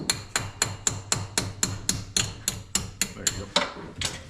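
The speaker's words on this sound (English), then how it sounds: "My snap-on hammer." Repeated hammer blows from a Snap-on hammer striking a driveshaft during a driveshaft replacement, about sixteen sharp metallic strikes in a steady fast rhythm, close and loud.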